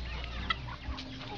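Chickens cluck close by in short, clipped bursts over a busy outdoor background, where people are chasing and catching fowl.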